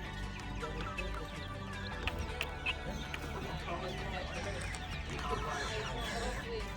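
Free-range chickens cluck softly among steady outdoor background noise, with scattered clicks and scratches and some faint human voice mixed in.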